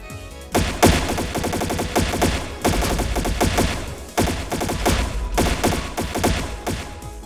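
Rapid automatic gunfire in Trails in the Sky SC, loud and close, coming in several sustained bursts of fast rattling shots separated by brief pauses, with no talking.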